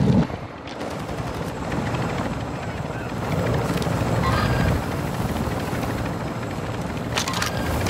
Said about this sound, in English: Helicopter landed on top of me.